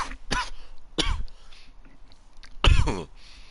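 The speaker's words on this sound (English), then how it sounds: "Random coughing" A person coughs in a quiet room during a Power Wash Simulator session, three harsh throat-clearing bursts spaced apart, the last one loudest, with faint background hum between them.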